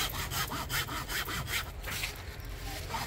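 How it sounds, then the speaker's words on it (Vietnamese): Close, rhythmic rasping of a hand saw working through a sappy lemon tree branch, with repeated strokes that slow and grow slightly quieter toward the end, no voices present. "Sau đó là lại cưa tiếp bên này."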